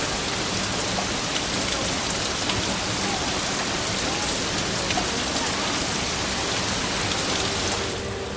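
Heavy typhoon-season deluge rain pours down steadily and loudly for the whole stretch, a dense continuous roar of drops hitting surfaces with no voices.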